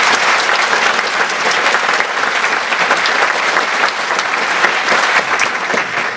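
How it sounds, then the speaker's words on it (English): An audience at a live talk claps steadily and loudly throughout, a dense sustained round of applause with no voices on top. "so I'd just like to give her a round of applause"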